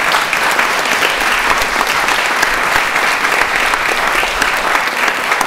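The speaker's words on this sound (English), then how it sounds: "So let's give him a round of applause." A ceremony crowd applauds steadily after a specially built cake is presented, the dense clapping loud, even and sustained throughout without speech.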